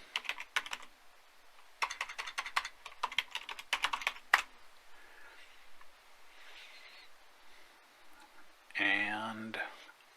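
Fingers type a password on a computer keyboard in a quiet room, bursts of close, crisp key clicks with short pauses between them, and a brief louder noise near the end.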